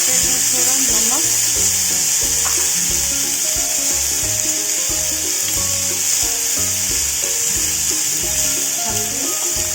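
Tomatoes frying in a pan with turmeric, red chilli powder and black salt make a continuous sizzle over stirring clatter, with a steady hiss throughout and faint background voices.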